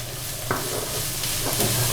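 Two medium capsicums and other vegetables for restaurant-style Chinese rice sizzle steadily in a hot pan, with a few sharp scraping stirs of a spatula cutting through the frying.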